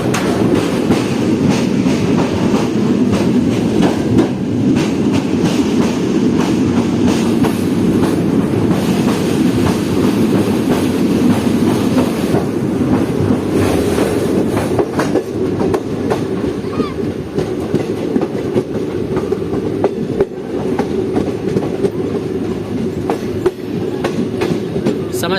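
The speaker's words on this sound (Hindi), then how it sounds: "हमारी ट्रेन लेफ्ट टर्न हो रही है, हैवी टर्न" A Jaynagar–Samastipur passenger train rounds a heavy left-hand curve near the Bagmati river, a steady loud rumble of wheels and carriages with faint clickety-clack running unbroken throughout.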